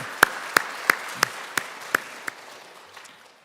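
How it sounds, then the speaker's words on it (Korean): A few sharp, evenly spaced claps in a church sanctuary, about seven distinct strikes at a steady rhythm over faint room noise, tapering off after two seconds. "우리 지휘자, 반주자, 우리 대원들 우리 격려의 박수 한번 부탁합니다"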